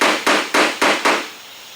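Hammer repeatedly striking a damaged car body panel during collision repair, five sharp evenly spaced metallic knocks up close, each ringing briefly before the next, then quiet.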